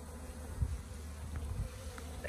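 Honeybee swarm at a homestead hive, a steady close buzzing drone with individual bees flaring louder as they pass near, no voices.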